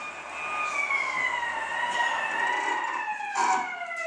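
A police car siren wails in a radio drama, a clear rising and falling tone that sounds fairly close and holds steadily throughout with no voices.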